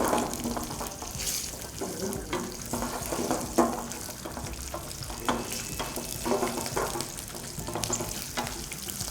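Small shallots sizzle and crackle in hot oil for a brinjal fish gravy, a steady bright frying hiss with scattered pops and occasional stirring scrapes, close and continuous with no talking.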